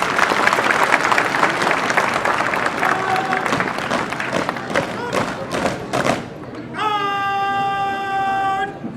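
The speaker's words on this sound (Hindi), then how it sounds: "एक बार फिर जोरदार तालियों द्वारा इनकी हौसला अफजाई करें।" A crowd claps for a parade contingent at a border ceremony in Suchetgarh, Punjab, dense applause rolling steadily before thinning out, followed by a sustained tonal sound near the end.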